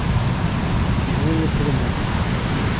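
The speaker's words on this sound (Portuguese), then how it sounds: "Água escorrendo aí." Steady broadband rush of running water at Trindade, Paraty, a continuous even wash with no breaks, fairly loud and close, with no talk over it.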